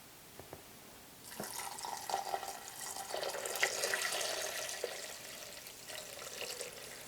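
Hot water is poured from a container into a slow cooker for French onion soup, a steady splashing, gurgling stream lasting several seconds after a couple of light knocks.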